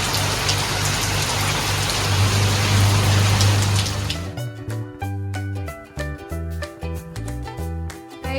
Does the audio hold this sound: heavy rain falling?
yes